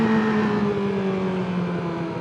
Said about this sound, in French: Le bruit du SC Project il se fait un peu plus.